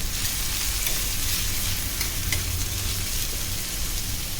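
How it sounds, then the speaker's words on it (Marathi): Five or six crushed garlic cloves and a finely crushed green chilli sauté in a hot pan, giving a steady, close, even sizzle throughout with no talking. "ठेचलेला लसूण एक 5-6 पाकळ्या, एक हिरवी मिरची बारीक क्रश केलेली. छान परतून घेऊया."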